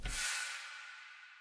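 A single snappy layered snare-clap sample with no stereo width, a clap-like hit with a bright, noisy tail that decays over about a second, heard alone and fairly quiet.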